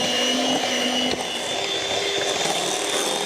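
Steady, loud whir of an electric mixer blending a no-bake Nutella cheesecake filling, running continuously without pause and with no voices.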